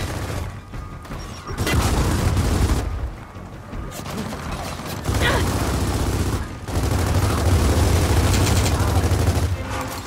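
Grenade explosions and gunfire in Gears of War 4 combat, dense bursts of booms and rattling shots that swell and cut out in loud stretches, with game characters shouting over them.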